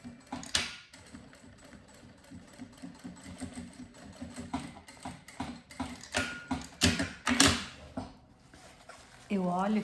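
A sewing machine runs in short bursts, stitching a safety seam on a notebook bag strap, its rapid mechanical clatter close by, with someone speaking in between.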